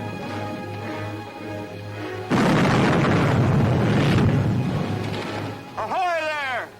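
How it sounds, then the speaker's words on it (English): A ship's cannon fires a shot across another vessel's bow, one loud booming blast with a long rolling roar, followed by a rising and falling whistle-like tone. "Fire a shot across her bow."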